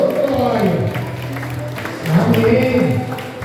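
During a Holy Communion church service, the congregation claps together while voices call out loudly over the applause, which swells again partway through.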